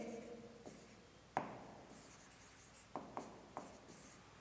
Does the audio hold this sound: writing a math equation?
yes